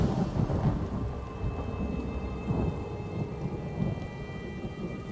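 Rain falls steadily in The Elder Scrolls Online while thunder rumbles low and rolling through the downpour, with a constant hiss of drops and no voices.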